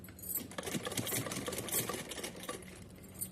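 A sewing machine stitching pleats on a small Laddu Gopal dress: a continuous fast mechanical whir and needle clatter, close and steady, with slight changes in speed.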